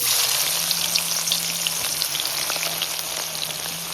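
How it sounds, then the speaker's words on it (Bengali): Chopped onions hit hot oil after potatoes have fried, giving a loud, close, continuous sizzle with scattered crackles and a faint steady hum beneath, no voices. "তো আলু ভাজা হয়ে গেছে, এবার পেঁয়াজ কুচিগুলো দিয়ে দিচ্ছি।"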